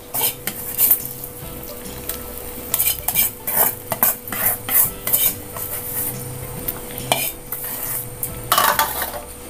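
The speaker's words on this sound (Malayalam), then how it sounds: "നന്നായിട്ട് മിക്സ് ചെയ്ത് കൊടുക്കാം." A ladle stirs Kerala sadya sambar in a metal pot after tempering is poured in, giving close, irregular scraping and clinking against the pot over a faint sizzle.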